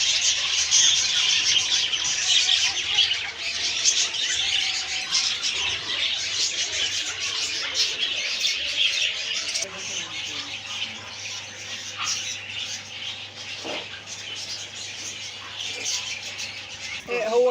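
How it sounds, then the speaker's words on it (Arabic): Assorted birds chirp and tweet throughout a bird and small-animal shop, a dense continuous chatter of calls with a steady hum underneath and no talk. "جولة في محل عصافير وبعض الحيوانات"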